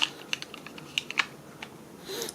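Scattered keystrokes on an inexpensive USB computer keyboard tap out sharp, close clicks in an irregular rhythm, with a brief faint rustle at the end and no talking.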